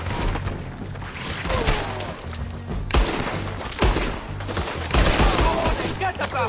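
Rapid bursts of gunfire from a Red Dead Redemption 2 shootout crack repeatedly, dense and loud, overlapping into a continuous fusillade with a few heavier booms, while voices shout over the fight.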